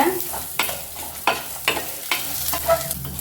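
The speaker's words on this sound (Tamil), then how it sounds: "இப்போ சிம்மில் வச்சுட்டு இது அப்படியே மிதமான ஹீட்லேயே வந்து நல்லா வறுத்துருங்க" Ground masala roasting on low heat in a pan for chicken curry, a soft sizzle broken by several distinct spatula scrapes and stirs at an uneven rhythm, close by with no talking.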